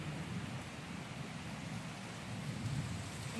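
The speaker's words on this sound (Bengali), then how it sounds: "আবার এই দেখুন এদিকে কি বৃষ্টি হচ্ছে" Steady rain falling outside during a power cut, a dense, continuous hiss with a low rumbling undertone, heard alone and fairly distant.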